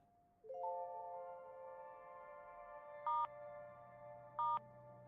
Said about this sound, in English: Answer the freaking phone.